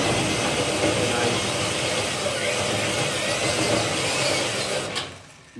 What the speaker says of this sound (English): I have it on my 3/8 spot weld cutter, and what I do is I go in there and I just gently go down